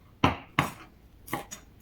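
A knife chops bell pepper on a cutting board in a home kitchen, four crisp, separate knocks spaced irregularly, close and fairly quiet.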